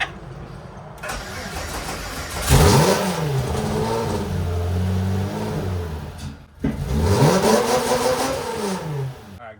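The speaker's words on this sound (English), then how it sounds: "You want to rev your motor to the moon as soon as you start it." A right-hand-drive-converted VW Mk1 with a swapped VR6 engine cranks and fires, then revs hard in two loud rising-and-falling sweeps with idling in between, close by with faint talk in the background.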